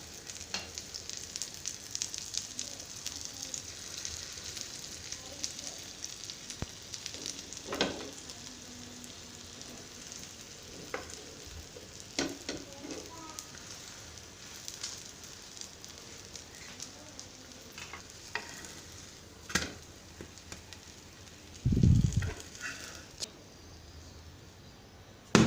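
Cheese and egg bread toast fries in butter in a pan, giving a quiet, steady sizzle with scattered crackles and occasional clinks and scrapes of a utensil, plus a brief louder knock near the end.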